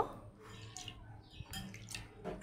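Lentils being washed in water in a home kitchen, with soft, faint splashes and drips that come sparse and irregular, ending in a louder slosh.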